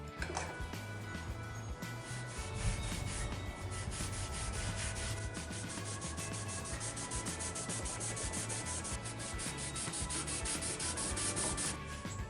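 Steady rubbing of sandpaper over carved wooden wall art, close and continuous with a rhythmic back-and-forth texture, quiet and alone without talk.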